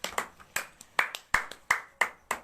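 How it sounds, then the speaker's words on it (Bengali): Children in an art class clap their hands loudly together, a run of sharp claps in an uneven rhythm, about two or three per second, close by with no talking over them. "সবাই রক্তিমার জন্য জোরে হাততালি দাও।"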